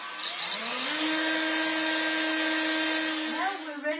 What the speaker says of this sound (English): you have to drill a little hole in the corner so the cable can go in